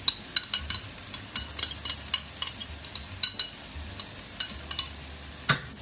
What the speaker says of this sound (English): Now, I'm going to add a little bit of garlic.